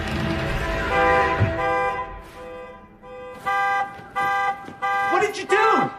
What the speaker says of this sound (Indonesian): Emma pun menghidupkan alarm mobil untuk mengalihkan perhatian Jimmy dan Bobby